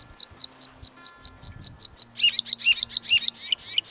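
A male bluethroat sings in marshland, a run of evenly spaced bright chirps followed by faster, more varied twittering phrases, clear and fairly close, with no voices.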